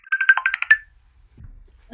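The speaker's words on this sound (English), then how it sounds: "Someone's trying to WhatsApp call you." A phone rings with a WhatsApp incoming-call tone: a quick run of bright, bell-like chiming notes that stops partway, followed by a faint low thump and quiet room noise.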